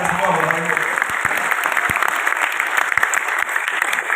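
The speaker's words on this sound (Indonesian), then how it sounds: "Tepuk tangan dulu dong buat anda semua." Meeting audience in a Jakarta hotel ballroom applauds steadily, a dense, loud wash of clapping that fills the whole stretch, with a few voices mixed in at the start.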